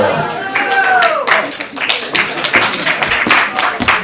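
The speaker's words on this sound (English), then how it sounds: "Thank you for clapping" Audience applause for a performer coming on stage, dense clapping throughout with cheering voices mixed in at the start, loud and close.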